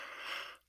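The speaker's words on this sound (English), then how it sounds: "I need to get my yawns out." A single breathy human yawn, close and fairly loud, a rushing airy intake that fades out abruptly after under a second, with no talking.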